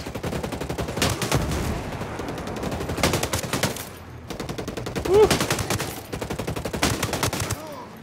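Rapid bursts of gunfire in the tactical shooter Ghost Recon Breakpoint, dense repeated volleys across most of the stretch with a short lull in the middle, loud and close.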